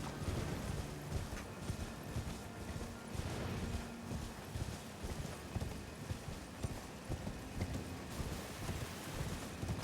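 Horse hooves clip-clop steadily in a video game, a faint, even rhythm of hoofbeats under a rain-like background wash.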